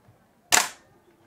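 A single gunshot at a sport shooting range cracks once, sharp and loud, then decays quickly in a short tail with near silence around it.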